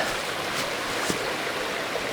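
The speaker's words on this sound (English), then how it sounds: "And I'm here now at the waterfall." Small waterfall running on low water flow in the mountains, a steady, fairly quiet wash of falling water that holds even throughout, with no voices.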